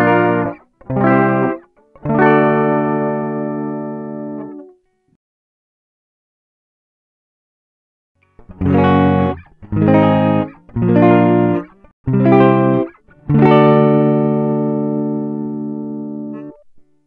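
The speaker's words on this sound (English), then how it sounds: "I'm just gonna play a few chords and we'll check out the tones." Chords strummed on an electric guitar built from an EVH Wolfgang quilted-top kit, a handful of short clean stabs, then a pause, then several more chords with the last ringing out, close and clear with no talking.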